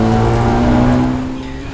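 A race car on a circuit exits a corner under power, its engine loud and steady with a strong droning tone that holds and then eases slightly, with no talk over it.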